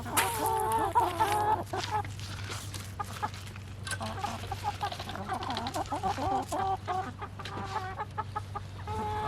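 A flock of meat chickens clucks and squawks close by as they wait for feed, a busy, overlapping chorus of calls over a steady low hum.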